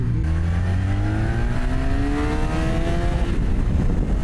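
A motorcycle engine revs up steadily, its pitch climbing over several seconds as the bike accelerates, loud and close with constant low rumble.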